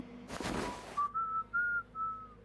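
A game character in Sherlock Holmes: Crimes and Punishments whistles a few short, clear sustained notes right after a brief burst of noise, close and alone.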